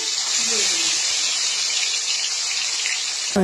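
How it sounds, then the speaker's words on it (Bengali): Boras frying in hot oil in a kadai (pan) give off a steady, loud, bright hiss that holds without a break, with a faint musical tone underneath and a short knock at the end. "বড়ার জন্য কড়াইতে তেল দিয়ে দিলাম গরম হয়ে গেছে"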